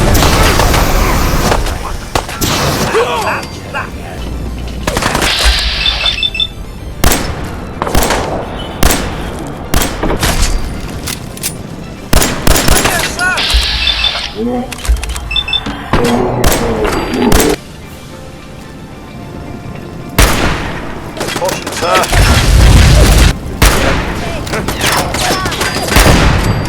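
Rapid bursts of gunfire and heavy thumps from a firefight in the video game Fallout 4, played in survival mode, come in dense repeated volleys with loud impacts, and voices shout at points under the shooting.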